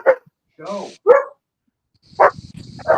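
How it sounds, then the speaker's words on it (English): A pet dog gives a handful of sharp barks and yips nearby, spaced irregularly with short silences, one bark drawn out into a whine-like tone. "my dog is barking"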